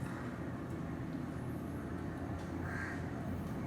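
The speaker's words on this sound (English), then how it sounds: "It starts with cawing" Crows caw faintly from a distance, their calls thin and sparse above a steady, dense wash of background rumble.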